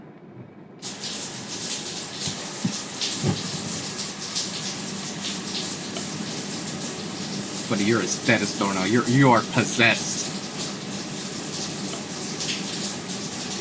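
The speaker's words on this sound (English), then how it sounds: "Let me take a shower." A shower runs in the Funeralopolis video game, a steady loud hiss of spraying water that continues throughout while voices talk over it.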